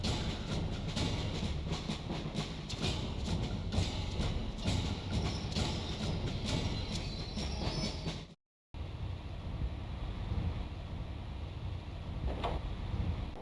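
A train pulling into a station rumbles and clatters steadily with rail noise and faint wheel squeal, then cuts out briefly before a quieter rolling hum and a late metallic screech.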